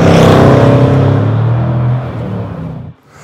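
A Jaguar F-Pace SVR performance SUV on the road gives a loud, deep engine roar that fades as it pulls away, ending in a sudden drop, close and with no talking.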